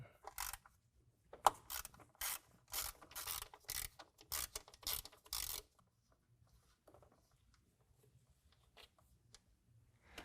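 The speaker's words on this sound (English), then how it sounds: "We need to remove those using our 10mm deep well socket." Ratchet with a 10mm deep well socket removing nuts on a Ford Maverick during a cold air intake install, a close series of sharp rapid clicking bursts in quick strokes, then quieter faint handling sounds.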